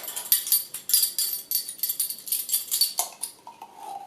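A spoon scraping and clinking rapidly against a bowl while dolma filling of rice, chopped parsley and dried mint is mixed, a brisk, close, irregular rhythm of metallic taps with no talking.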